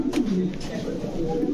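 Danish-breed pigeons coo softly and steadily at close range, a low murmuring coo running under a speaking voice throughout.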